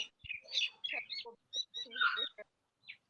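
Bird chirping in the background, a run of quick high chirps and tweets in close bursts with short gaps between them, fairly faint, with voices partly under them.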